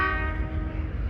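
Train horn sounding at Faisalabad railway station in Pakistan, a loud sustained tonal blast with layered harmonics over low rumble, heard alone without talk.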